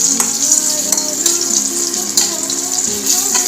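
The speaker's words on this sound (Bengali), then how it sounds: "দেখো নুন হলুদ দিয়ে আলুটা ভেজে নিচ্ছি।" Potatoes fry with salt and turmeric in a pan, giving a close, continuous sizzle broken by a few scraping stirs, with no talking.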